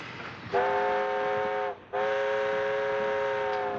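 A train whistle sounds in two long steady blasts with a brief gap between them, loud and close, on a Death Valley railroad setting with no talk over it.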